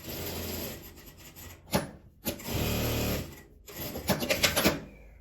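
A sewing machine stitches a seam on a double-sided denim tote bag, running in quick bursts separated by short stops, close and fairly quiet.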